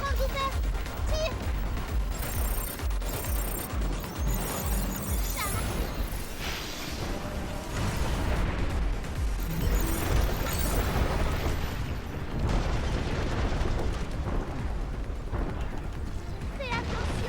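Sticky bomb shots and explosions in the video game Pragmata, a dense run of bursts, booms and crashes lasting many seconds, loud and continuous, with a voice talking underneath.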